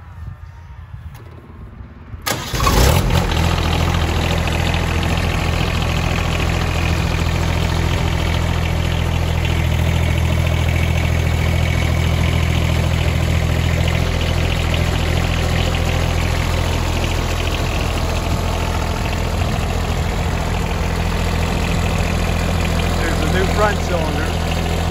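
A loader with a 48-inch quick-detach bucket cranks over and its engine catches, then settles into a loud, steady idle that runs unbroken close by, with a low rumbling drone throughout.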